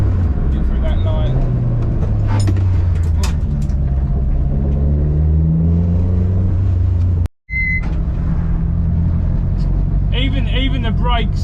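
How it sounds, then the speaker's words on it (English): A low, steady drone of tyre and road rumble fills the interior of a Toyota Glanza, loud and constant, with someone talking over it and a brief cut partway through. "You hear all the road noise"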